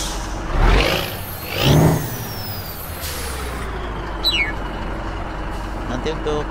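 A Hino 500 truck in Euro Truck Simulator 2 with a sound mod: two loud hissing air-brake bursts, a steady engine idle underneath and a short high squeal, with a voice speaking over it.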